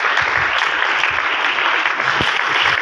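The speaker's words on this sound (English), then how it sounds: "the clapping should continue till the award is received" Audience applause fills a hall at a tech summit IT exports award ceremony, steady and dense clapping from a large crowd throughout, with no talking over it.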